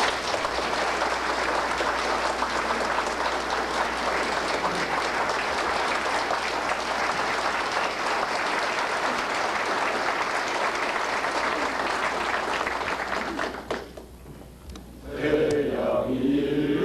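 Sustained audience applause at a 1993 company anniversary ceremony for Jungwoo Medical, dense and steady for about fourteen seconds before thinning out, followed by the start of a sung company anthem.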